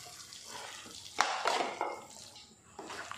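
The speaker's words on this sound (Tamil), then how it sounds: "மசாலாவை எல்லாத்தையுமே கிழங்கோட நல்லா கலந்து நல்லா வேக விடணும் கொஞ்சம் நேரத்துக்கு" Boiled tapioca being mixed into masala in a pan, giving soft scraping and clinking of a spoon against the pan, with a sharper clatter near the start and quieter stirring after, fairly faint.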